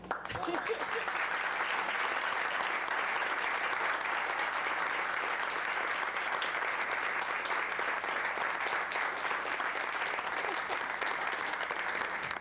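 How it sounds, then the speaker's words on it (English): Sustained applause from the audience at a Salem city council meeting, honoring young people who gave a presentation; steady, dense clapping that fills the room at even loudness throughout. "maybe you could stand up and we can give you a round of applause"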